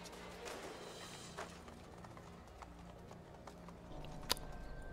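Horse hooves clip-clop in a Prince of Persia or Assassin's Creed style video game, a soft steady patter under game ambience and a sharp hit near the end.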